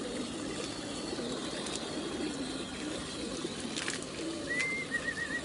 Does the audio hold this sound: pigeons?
yes